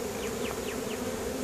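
A swarm of honeybees being hived into a five-frame nucleus hive gives off a steady, dense buzz, with a few faint rising whines of individual bees passing close by.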